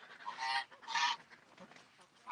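Ducks honking and squawking in two loud, bursting calls close by, then a shorter call at the end, with no talking.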